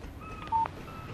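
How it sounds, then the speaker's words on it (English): Short electronic phone alert in the Alan Wake game for an incoming text message, a brief two-tone beep, faint and alone over a quiet background. "Text message from Barry"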